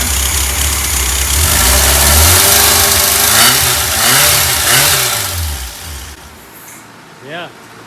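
A freshly rebuilt air-cooled VW 1600 engine idles and revs nearby with a throaty, uneven rumble, then cuts off near the end; voices talk faintly underneath.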